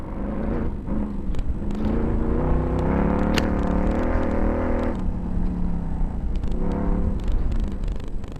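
Off-road racing cars pushing through water and thick bush, a loud steady engine roar with revving and rumble throughout, close and continuous with no talk.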